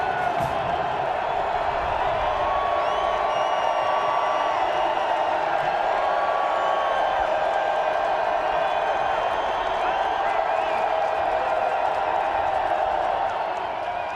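A football stadium crowd at a San Diego at Montana game roars and cheers continuously, a broad sustained wash of voices with scattered whoops, while a commentator talks over it.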